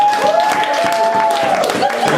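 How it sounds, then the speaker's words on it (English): An audience claps for a poet at a university creative writing reading, a steady patter of many hands filling the room, with a faint steady tone running underneath. "Clap for her while we wait."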